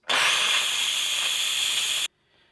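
Instant Pot pressure cooker venting steam on quick release, a loud, steady, close hiss that starts abruptly, holds for about two seconds, then cuts off sharply into near silence.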